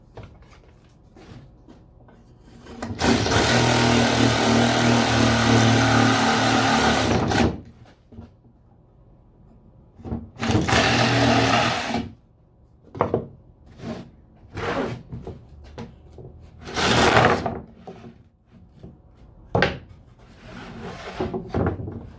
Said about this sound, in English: I'll take a Sawzall and just cut it to the point